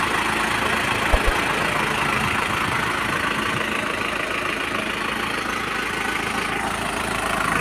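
A used Isuzu Dragon Eye 4WD pickup engine idles steadily with a continuous, even rumble and no voices over it.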